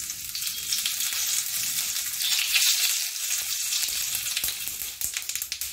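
Vadagam, sun-dried crisps, frying in hot oil for paruppu kuzhambu: a loud, bright, continuous hiss of bubbling oil up close, with a few crackles near the end and no voices.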